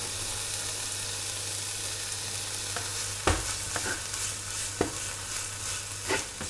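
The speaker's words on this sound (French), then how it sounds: "Les oignons finissent de confire tranquillement." Onions with olive oil, a dash of Worcestershire sauce and sugar cook gently in a pan, a soft, even sizzle under a low steady hum, punctuated by a few sharp knocks and stirs.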